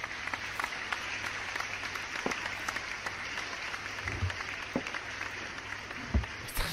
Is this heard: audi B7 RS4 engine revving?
no